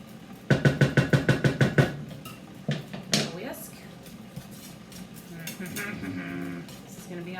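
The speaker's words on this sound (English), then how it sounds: "We gotta whisk it, kind of break it up into smaller pieces so that it's easier to whisk." A whisk clatters rapidly against a pan while breaking up cream cheese, a quick run of about ten sharp metallic taps followed by a few scattered scrapes and clinks, close and fairly loud.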